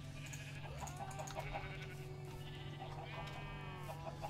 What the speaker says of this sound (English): Right, that's the sheep.